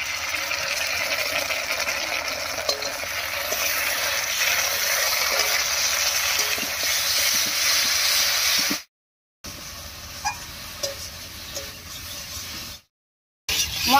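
Chili paste and cumin-fennel paste go into a pan of frying potatoes, giving a steady loud hiss of oil sizzling that runs continuously, broken by two short silences before the frying hiss resumes more quietly.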